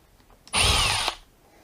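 A Makita gold cordless drill whirs up sharply, runs at high pitch for about half a second while driving a screw into wood, then winds down, with quiet room tone before and after.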